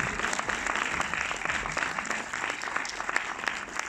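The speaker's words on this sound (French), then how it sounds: "vous pouvez les applaudir bien fort" A packed theatre audience at a film premiere in Orléans claps continuously, a dense, even wash of applause with no pauses.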